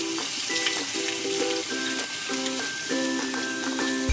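Butter melting into hot white oil in a pan, a steady bright sizzle and crackle that runs the whole time at moderate level, with no voices over it.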